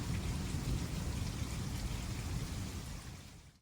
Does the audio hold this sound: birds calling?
no